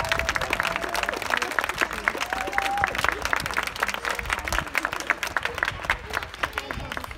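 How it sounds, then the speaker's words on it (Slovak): Crowd at the opening of a barrier-free playground in Zvolen, Slovakia, gives a big round of applause, dense rapid clapping sustained throughout, with a few voices calling out over it. "úžasný potlesk."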